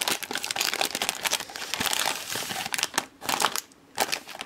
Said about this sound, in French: vous allez ouvrir votre kit avec un ciseau